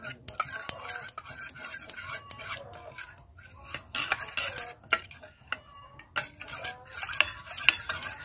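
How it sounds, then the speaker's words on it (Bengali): Cornflour is stirred into water in a small bowl, with a spoon rapidly scraping and clinking against the sides in a quick, uneven rhythm, close and fairly quiet. "এবার এটাকে জল দিয়ে একটু গুলিয়ে নেব।"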